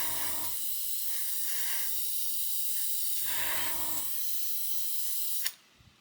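An airbrush sprays Japanese MRP model paint in a steady, close hiss that swells slightly in short passes, then cuts off abruptly near the end, leaving near silence.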